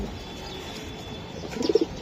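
A grizzle pigeon coos in a short low burst near the end, rising out of a steady indoor background hum, with no voices.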